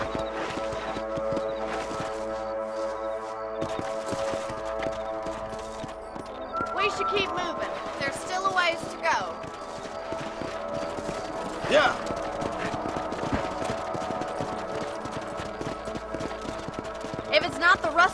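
Horses galloping in the Red Dead Redemption video game: rhythmic hoof clip-clops under music, with short spoken lines and louder hoof bursts later on.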